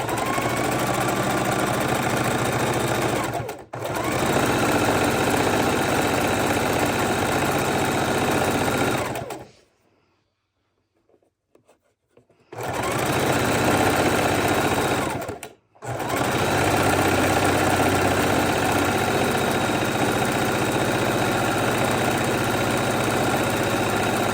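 A sewing machine runs scant quarter-inch seams around a microwavable tortilla warmer, a fast steady mechanical whir broken by two brief pauses and a stop of about three seconds before stitching resumes.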